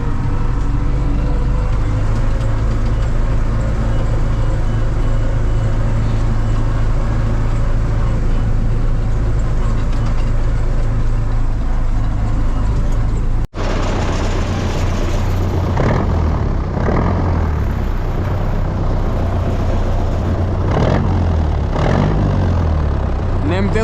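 A heavy MTZ tractor engine rumbles loudly nearby throughout, its drone shifting midway as voices talk over it, in a field.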